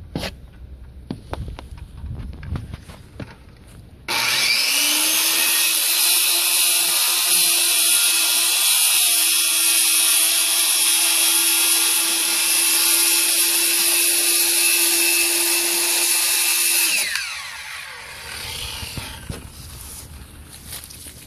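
A power saw cuts through wall sheeting for an A-frame shed, a loud sustained high whine lasting about twelve seconds, with quieter knocks and handling noises before and after the cut.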